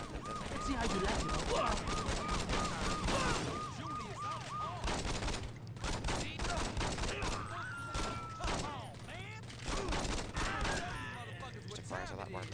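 Rapid pistol gunfire in the video game Saints Row: a dense run of sharp shots rattles on over game sound effects and background music, with a voice talking across part of it.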